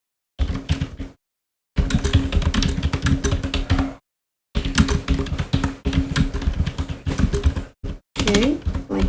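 Fast typing on a computer keyboard while entering dialogue text, dense clattering keystrokes in bursts separated by short pauses, close and fairly loud with a faint hum underneath.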